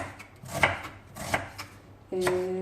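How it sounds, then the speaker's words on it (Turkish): A knife chopping onion into long strips on a board, three distinct close thuds spaced about a second apart, followed by a brief steady hum near the end. "Şöyle uzun uzun doğrayacağız."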